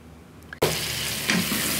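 Vegetables for fried rice, including green beans, capsicum and cashews, hit the hot pan after a near-silent pause, setting off a sudden loud burst of frying that holds steady, with a brief clatter of stirring toward the end.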